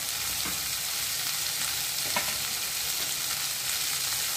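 Okra sputters and sizzles in an oiled pan while being stir-fried, a continuous even frying hiss with faint stirring scrapes and no talking.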